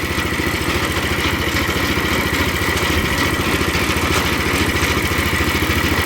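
A small engine fitted with a weighted governor instead of an air governor runs steadily at idle, a continuous close, even mechanical chug with light clatter and no talking.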